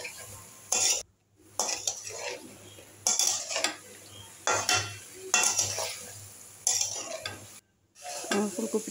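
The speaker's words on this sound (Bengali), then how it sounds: "কপিটাকে খুব ভালো করে কষিয়ে নিব।" Cauliflower being stirred and fried in a pan for a fish curry, loud bursts of scraping and clattering utensil strokes against the pan over a sizzle, broken by short pauses, close and without talk.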